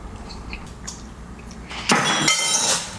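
Glasses clink in a toast over an orange chicken tasting. There is one bright, ringing clink after a moment of quiet shuffling, and it decays over about a second.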